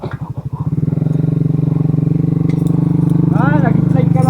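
Motorcycle engine idling and running on a narrow, slippery road in La Union, a steady close throbbing putter, with someone talking over it.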